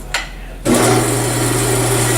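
A horizontal metal-cutting bandsaw switches on with a sharp click and then settles into a steady, loud motor hum with a high whine, running alone after startup.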